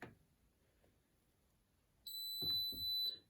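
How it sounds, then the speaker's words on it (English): A Hotpoint NSWA843C washing machine control panel gives a single sustained electronic beep after a quiet pause, with faint clicks of buttons being pressed around it. "that just beeps at us. Traditional Hotpoint beep."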